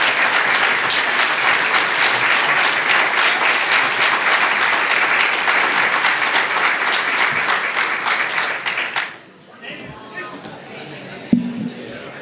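Dense, sustained applause fills an awards dinner hall for award recipients, then stops abruptly near the end, leaving quieter room murmur and a brief voice.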